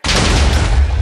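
A TNT explosion in a video game hits abruptly and loud, a dense roaring boom that fills the moment and holds steady without fading, with no talk.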